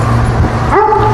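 A dog gives a short yip and whimper close by during a reactivity training session, a single brief vocalization with a faint steady hum beneath it.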